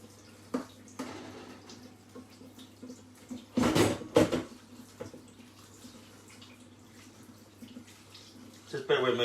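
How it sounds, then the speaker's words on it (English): Knife blades being rinsed under a running kitchen tap while baking, a few seconds of splashing water with clinks of metal, close, amid quieter room noise and brief handling sounds. "Just bear with me while I just wash these blades off"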